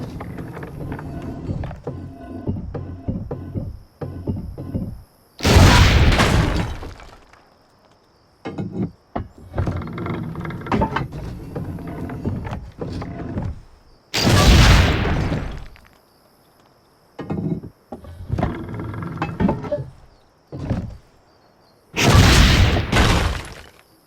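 Cannon blasts in Assassin's Creed Brotherhood, three loud broadband booms spaced several seconds apart, each standing alone between stretches of game sound and clatter.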